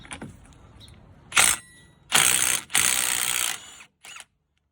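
An impact wrench works a 30mm axle nut loose on a Wildcat XX side-by-side, with a few short, loud bursts of rattling power-tool noise separated by pauses.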